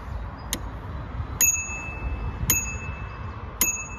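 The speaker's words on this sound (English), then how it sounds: "Also on the as standard, you get a bell." Bicycle bell on a Himiway Zebra e-bike, four bright metallic dings struck at roughly one-second intervals, close and clear, each with a short ringing tail.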